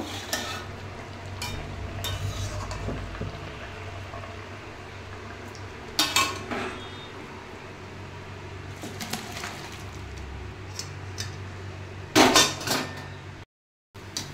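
Pot of fish curry with local rohu fish and drumstick stems lifted off the stove, a low simmering bubble under faint clinks and a few sharp metallic clatters of the pot and utensils, fairly quiet, no speech.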